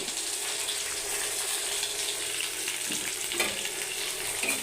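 Onion and garlic fry in oil with fenugreek and curry leaves for a tamarind eggplant curry. A steady close sizzle with a few soft stirring scrapes, and nobody speaking.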